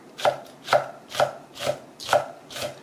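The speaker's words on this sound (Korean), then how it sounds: "고추를 썰어 보겠습니다" A knife chops red and Korean cheongyang chili peppers on a board in six evenly spaced, crisp, close strikes, with no talking.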